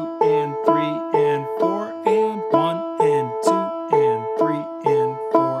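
Bright clawhammer-style banjo notes struck in a steady, even eighth-note rhythm, each ringing briefly before the next strike, loud and close.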